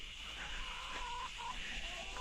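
Soft clucking from a few chickens, including broody hens, over a steady background hiss, low-level and continuous.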